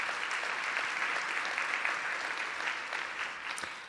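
An audience claps steadily in a room after a talk, a dense, even wash of applause that fades slightly toward the end.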